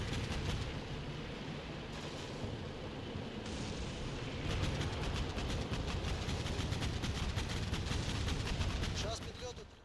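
Gunfire and artillery in the Combat Mission Black Sea war game during a Ukraine campaign battle; dense rolling rumble with rapid automatic bursts, continuous and heavy for about ten seconds.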